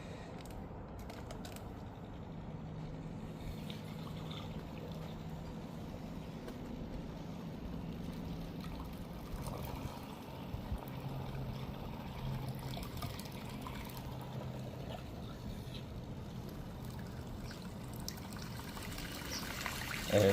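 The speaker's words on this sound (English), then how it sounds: "I'm gonna show you the flow, and I'm gonna show you the consumption." A recirculation pump pushes water out through an open hose end, giving a steady, continuous trickling and pouring flow with a low mechanical hum underneath, moderately close and unbroken by speech throughout.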